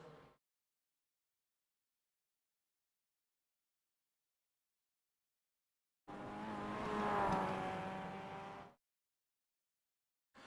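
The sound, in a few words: Mazda MX-5 race cars on track in iRacing video game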